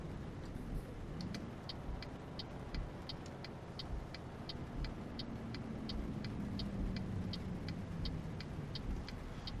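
A heavy lorry hauling 23 tons of cargo in Euro Truck Simulator 2 drones with a steady low engine rumble and a faint rising tone, while a quick regular ticking, like an indicator, runs through most of the stretch.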